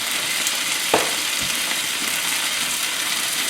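Onion and chicken sauté in a hot pan with a dense, constant sizzle and one short scrape of stirring, with no talk.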